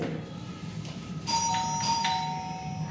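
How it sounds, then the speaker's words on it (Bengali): A doorbell rings in a home, a bright electronic chime of a few tones. It is clear and moderately loud over quiet room noise. "বেল বাজালাম, এবার খুলবে"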